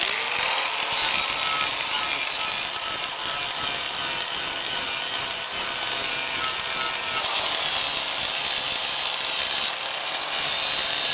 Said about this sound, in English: take your angle grinder or whatever kind of grinder you got and just smooth everything out